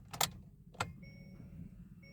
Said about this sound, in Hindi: यही होता है वेलकम साउंड। जब चाबी लगाऊंगा